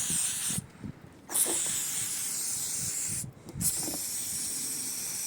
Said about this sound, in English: I'm just going to spray loads of penetrating fluid in there.